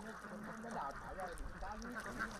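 White ducks on a fish pond make soft, scattered quacks and calls in the background beneath continuous talk, with broadband outdoor noise throughout.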